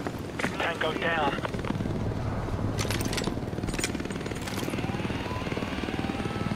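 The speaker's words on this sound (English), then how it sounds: "Enemy helicopter has been neutralized." Steady rotor chop from a helicopter in Call of Duty: Modern Warfare 2 Campaign Remastered runs throughout, loud and close, with clipped radio-style voices and brief bursts of gunfire layered over it.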